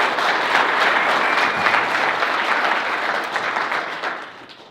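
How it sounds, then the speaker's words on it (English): Steady applause from a conference keynote audience, dense clapping holding for several seconds before tapering off at the end. "Can you guys give Brett a big round of applause"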